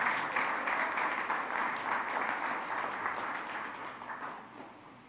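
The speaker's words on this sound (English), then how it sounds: "So now have another round of applause for Tohachi High School." Applause at a school board of education meeting in Gallup McKinley County, honoring a high school: a steady, moderately distant wash of many hands clapping that gradually thins and fades over several seconds, with no talk over it.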